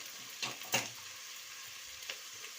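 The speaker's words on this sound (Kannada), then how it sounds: "ಈಗ ಇದು ಟೊಮೊಟೊ ಮತ್ತು ಈರುಳ್ಳಿ ಬೇಗ ಫ್ರೈ ಆಗಬೇಕಂದ್ರೆ" Tomato and onion frying in a pan for avalakki chitranna, a soft steady sizzle with a few brief stirring scrapes, fairly quiet and close, no talking.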